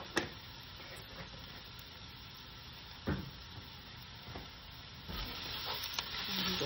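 Chili with beef powder is stirred in a frying pan over a quiet, steady sizzle, with several distinct scrapes and taps of the spoon against the pan spaced a second or two apart.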